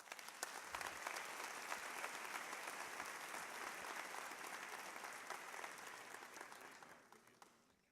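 A church audience gives warm, sustained applause welcoming pastor Domingos Jardim, dense clapping from a large crowd that holds steady for several seconds and then fades at the end.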